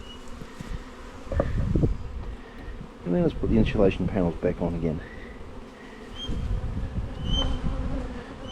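Honey bees buzz around an opened hive during a rainy-day winter inspection, a continuous close drone running under a person's voice while insulation panels are handled.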